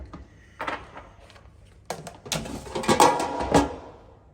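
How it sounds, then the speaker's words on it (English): Potato chips being tipped into an air fryer basket, giving light scattered clatters and rustling knocks, quiet at first and then denser and louder toward the end, with no talking. "Now load the chips into your air fryer basket"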